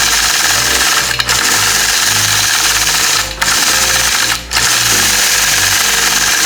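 A sewing machine runs at speed while free-motion quilting feather shapes, making a loud, steady mechanical whir that briefly dips three times before resuming.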